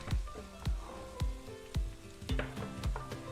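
Green peppers sizzling in a frying pan, a steady crackle broken by regular loud knocks and scrapes from stirring, close up with no talking.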